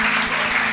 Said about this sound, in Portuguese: queria pedir uma salva de palmas para ele.